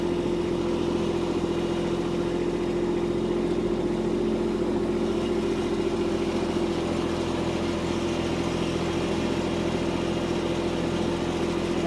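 A compact tractor engine running in high gear, a steady, unbroken mid-pitched drone with a constant hum throughout, close and fairly loud with no talking.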